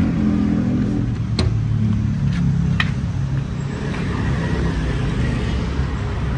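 A 2015 Suzuki Ertiga GX idles with its engine bay open, a loud, steady low rumble held throughout with a few faint clicks and no voices.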